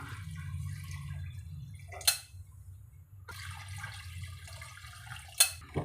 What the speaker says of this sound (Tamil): இப்போ நம்ம 2 கப் அரிசிக்கு வந்து 4 கப் அளவுக்கு தண்ணி ஊற்றிக்கலாம்